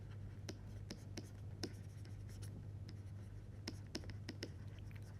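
Pen or chalk scratches and taps softly and irregularly as equations are written by hand, faint against a low steady hum.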